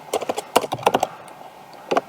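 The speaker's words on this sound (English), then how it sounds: "So we're gonna just type in here." Short bursts of keystrokes on a computer keyboard while setting up a mesh in Unity, a few quick clicks near the start, a cluster in the middle and a pair at the end, fairly close.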